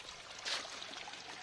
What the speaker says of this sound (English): Oh, it's already flowing.